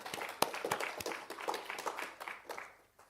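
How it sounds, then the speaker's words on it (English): Scattered clapping from a small workshop audience, individual claps distinct and uneven, fading toward the end; fairly faint and close with no talk over it. "I think we should give Noel a big round of applause."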